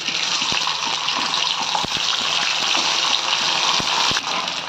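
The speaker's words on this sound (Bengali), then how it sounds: "এবার পনিরগুলোকে ভেজে নেব" Paneer frying in hot oil gives a loud, continuous, broadband sizzle that stays near and steady throughout, with a few sharp pops and clicks breaking through.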